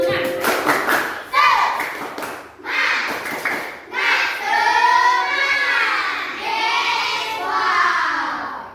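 A school class performs a rhythmic spirit clap, sharp clustered hand claps in quick patterned bursts, then children's voices chant together loudly in a sing-song call between and after the claps.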